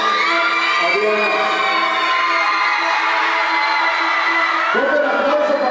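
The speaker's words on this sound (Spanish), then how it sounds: "Un aplauso para las tres candidatas, por favor." Crowd at a local Fiestas Patrias pageant final cheers loudly for the candidates, a dense mix of shouting, whoops and voices that stays strong throughout.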